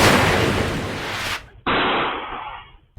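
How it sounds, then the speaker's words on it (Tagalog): Two loud gunshot blasts on a street in Pasig City, each followed by a long echoing tail that fades away, the second one slightly muffled. "Umalingaw-ngaw ang putok ng baril sa bahagi ng Mabini Street sa Barangay Canyogan, Pasig City kahapon."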